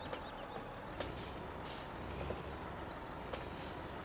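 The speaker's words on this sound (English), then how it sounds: "We'll fire it up. You can hear that" Big Bud tractor engine with a turbo idling in Farming Simulator 17, a steady low rumble with a few sharp hissing bursts, like air releases, on top. The sound is continuous and moderately loud, with no talk.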